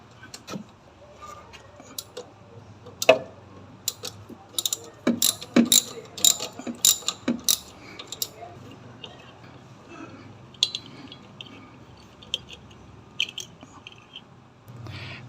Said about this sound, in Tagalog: Luwagan ko muna yung tornilyo niya rito.